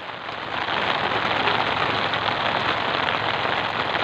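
Steady rain patters on surfaces during traditional handline fishing off Guiuan, a dense, even hiss that swells in quickly and holds loud and close, with no talking.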